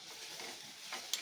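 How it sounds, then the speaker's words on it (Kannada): Turmeric, chili and cumin powder frying in a pan for bonda soup, giving a steady soft sizzle with light stirring and a brief clink near the end, close and moderately quiet. "ಇದು ಫ್ರೈ ಮಾಡ್ಕೊಳ್ಳೋಣ"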